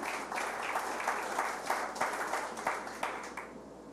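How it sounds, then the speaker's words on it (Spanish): Church congregation applauding the Lord in a Sunday service, a dense, steady patter of many hands clapping, moderately distant and fairly quiet. "Sí, aplaudo al Señor"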